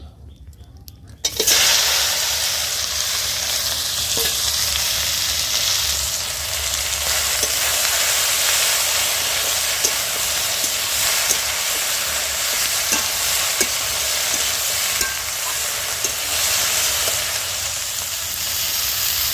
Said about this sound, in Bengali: ভাবছি ভেন্ডিগুলো আগে ভেজে নিই তারপর তরকারিটা করব